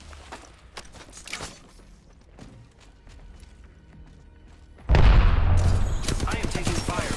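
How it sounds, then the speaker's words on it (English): Gunfire in the video game Apex Legends: scattered distant shots and footsteps at first, then a sudden loud close burst of rapid automatic fire that keeps rattling on to the end. "I am taking fire."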